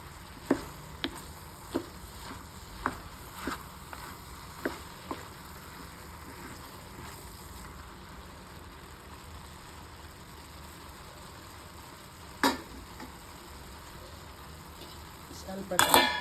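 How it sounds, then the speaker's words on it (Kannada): Chopped ridge gourd frying in a pan for a palya, with a soft steady sizzle under a series of light metallic clinks and scrapes as a spoon stirs, then quiet cooking and a few louder knocks near the end. "ಒಂದು 5 ನಿಮಿಷ ಫ್ರೈ ಮಾಡ್ಕೋಬೇಕು"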